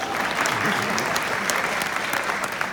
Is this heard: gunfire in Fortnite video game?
no